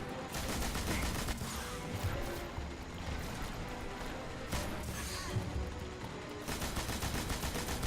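Continuous rapid arc weapon fire in Destiny during a co-op Nightfall strike at Meridian Bay on Mars, a loud, steady stream of crackling shots with short gaps.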